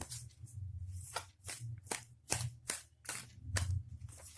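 Tarot cards are shuffled by hand, giving a series of crisp snapping riffles and soft slaps in irregular bursts, close and quiet, with no talking.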